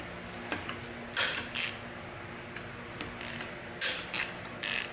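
A ratchet loosens bolts on a Mazda Miata engine during teardown, giving a few short bursts of sharp clicking and creaking between quieter pauses, heard close up without talk.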